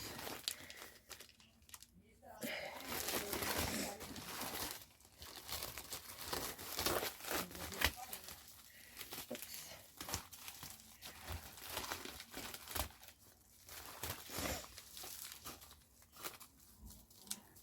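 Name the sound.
opening a package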